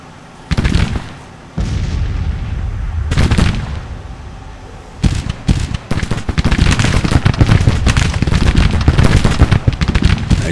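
Civil War artillery fire in the Grand Tactician: The Civil War game: a few heavy separate booms at first, then a dense, continuous barrage of loud cannon blasts and rumbling reports.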